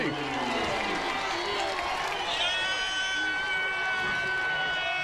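Lacrosse stadium crowd at a Duke vs North Carolina college game roaring and cheering after a goal, a loud sustained swell of voices and whistles filling the whole stretch.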